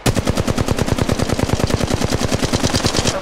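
Rapid automatic gunfire from Apex Legends Mobile, a fast even burst of roughly a dozen shots per second that stays loud and close for the full few seconds, with no voices over it.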